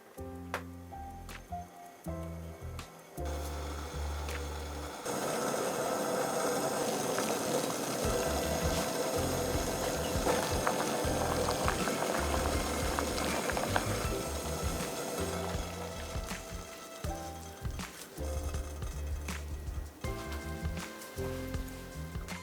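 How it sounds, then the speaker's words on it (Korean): A pot of Seoul-style bulgogi broth with rice wine simmers steadily, a continuous soft bubbling and hissing that rises and holds for several seconds amid faint kitchen clatter. "그리고 살짝 끓여주세요."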